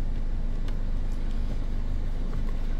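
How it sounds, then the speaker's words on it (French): A Peugeot 206 HDi diesel engine idles steadily, a low, even rumble that holds constant from start to finish with no revving and no voices. "le ralenti là est stable"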